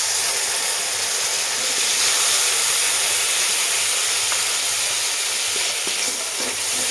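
Dissolved spice paste sizzling in hot oil over fried onions for a pumpkin-flower and tomato fish curry, a steady broadband hiss and crackle throughout with faint stirring sounds.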